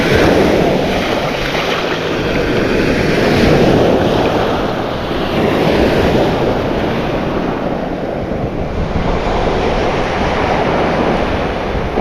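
Ocean waves wash steadily onto a Sarasota County beach in Florida, a continuous broadband surf roar with gentle swells, mixed with wind buffeting the microphone and no talking.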